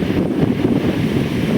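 Strong wind roars at sea around a small outrigger boat, a loud continuous low rumble of gusts buffeting the microphone with waves mixed in and no voices.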